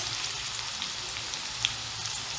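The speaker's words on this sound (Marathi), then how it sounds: "कांदा लालसर होईपर्यंत शिजवून घ्यायचा" Onion frying in a pan with asafoetida, cooking until reddish, giving an even hissing sizzle with a few small pops, soft and steady, with nobody talking.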